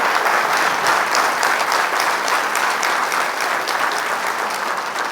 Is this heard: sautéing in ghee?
no